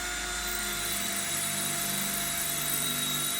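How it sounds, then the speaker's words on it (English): Power drill boring into a concrete wall with a drill bit not made for concrete, a steady high whine with a low grinding undertone, continuous and close throughout. "This drill bit's not made for concrete,"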